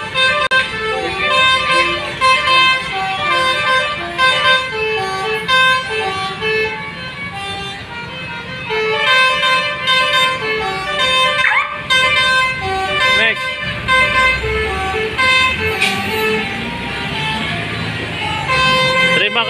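Horns on a Basuri bus during Indonesian Independence Day (Agustusan) festivities: loud, repeated melodic multi-tone horn blasts playing a remix tune, with a crowd and speech mixed in.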